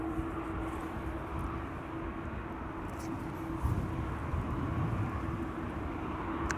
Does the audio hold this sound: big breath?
no